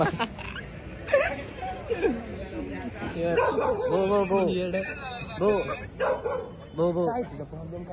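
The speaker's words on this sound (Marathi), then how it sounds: "कुत्रं आणि कुत्रं भांडतंय" Two dogs squabble nearby with yips, whines and sharp barks in uneven bursts, while several people talk and laugh over the scuffle.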